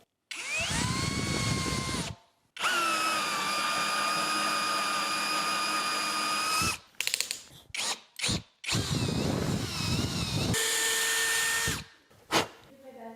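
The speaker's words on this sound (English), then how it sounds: "use the Forstner bit to make a counterboard hole" A power drill with a Forstner bit whines in long high-pitched runs, stopping and restarting, then several short bursts as the bit bores a counterbore hole in wood for an outdoor table, close and loud.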